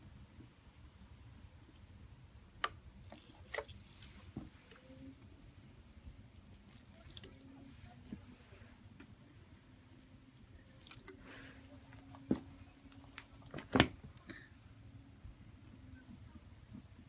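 Water drips and splashes onto Vans California SK8-Hi Zip MTE fleece-lined shoes during a water test, with sparse, irregular small drips and a few sharper splats over a quiet background.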